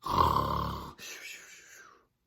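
A voice imitates a bear snoring in a toddler storytime about hibernation: one loud, rasping snore followed by a softer, breathy exhale that fades to silence.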